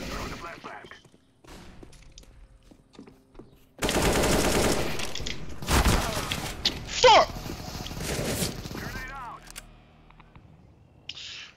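Negev machine gun spraying in Counter-Strike comes as a dense, loud, sustained burst of rapid automatic fire lasting several seconds, surrounded by quieter game sounds.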